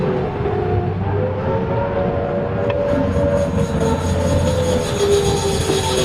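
Distorted scrap-metal industrial drone from the Silent Hill video game, a dense grinding, screeching metallic roar that holds steady and loud throughout.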